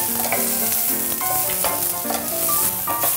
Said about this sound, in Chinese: 我们先干炒几秒，下点橄榄油下来，因为洋葱你炒的时候它会出水